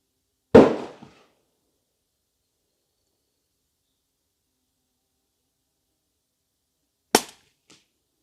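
Two loud, sharp cracks from a Ruger American 300 Blackout rifle with a free-floated barrel and MDT Fieldstock firing subsonic rounds, about six seconds apart, each decaying fast into complete silence.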